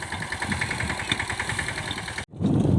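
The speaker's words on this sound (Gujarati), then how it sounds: "ટ્રેક્ટર આવી ગયો" A tractor engine idles nearby in a village with a steady, even chugging pulse, then cuts off abruptly into a brief gap before a rougher burst of noise.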